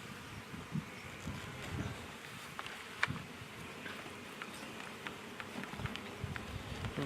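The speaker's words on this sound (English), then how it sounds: "A lot of bees in this hive still." Honey bees buzzing at a hive that has been smoked, a steady low drone of many bees with individual bees passing close by now and then, fairly quiet and without talk.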